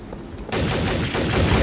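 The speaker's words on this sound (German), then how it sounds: "Ja, schießt mich an!" Rapid bursts of gunfire in the video game Garry's Mod, Trouble in Terrorist Town, erupt after a quiet start and continue as a dense, loud stream of shots.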